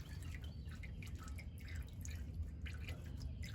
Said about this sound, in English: So you can tell it's still draining in the pan